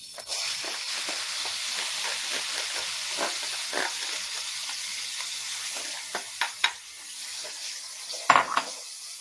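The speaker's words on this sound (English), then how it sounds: "we're going to cook our onion for about 1 to 2 minutes." Chopped onion sizzles steadily in hot oil in a pan where ground beef was cooked, a close, continuous hiss broken by a few clinks and scrapes of a utensil stirring near the end.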